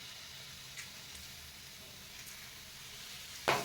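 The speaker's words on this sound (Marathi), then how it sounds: "आणि आता हे मिश्रण आपल्याला कोरडं होईपर्यंत परतून घ्यायचे" Steady soft sizzle of a fenugreek leaf, onion and gram flour mixture sautéing in a pan, a continuous close frying hiss with a few faint stirring scrapes and a sharper clatter at the very end.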